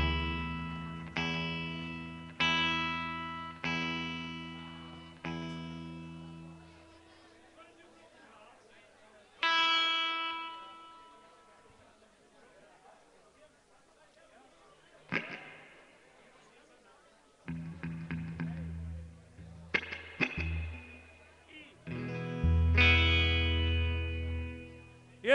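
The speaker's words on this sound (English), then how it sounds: "Here's a song, Jessica, I got an amp with reverb on." A guitar is played through an amp with reverb. Plucked notes and chords ring out and decay with a lingering wash, in spaced phrases that later build into louder, denser strums.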